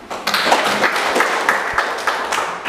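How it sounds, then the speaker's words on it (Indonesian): A school class claps their hands together during a lesson: dense, lively clapping from many children close by, steady throughout with a few louder accents, and no talking over it. "Mari kita tepuk tangan."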